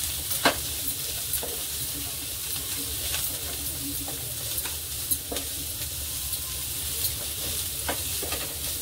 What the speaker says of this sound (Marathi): आता आपण या सगळ्या ज्या आपण भाज्या घेतलेल्या ना त्या पण टाकूया याच्यात। आणि चांगलं मिक्स करायचं।